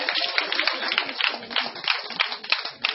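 A dense patter of clapping hands from a crowd, steady and fairly close, sustained throughout without pause.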